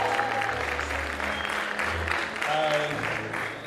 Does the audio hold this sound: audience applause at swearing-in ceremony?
yes